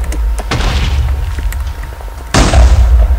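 Two heavy Minecraft explosions boom over a low rumble: a muffled blast early on, then a louder, sharper one near the end.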